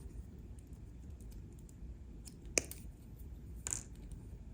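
Two crisp snips as wire is trimmed with cutters on a wire-wrapped pendant, small isolated clicks against a quiet background hiss.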